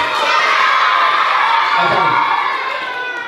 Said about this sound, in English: Give Miss Brett a round of applause